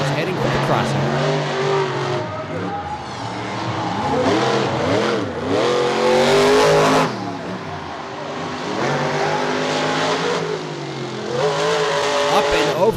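Monster trucks race around a course at Charlotte Motor Speedway, with loud, close engines revving and surging and rising and falling in pitch as the trucks accelerate, brake and climb over obstacles, under a commentator's voice.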